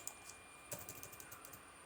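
Keys clatter on a computer keyboard in a quiet room, a faint, quick run of taps with a sharper press near the start and a busier burst in the middle.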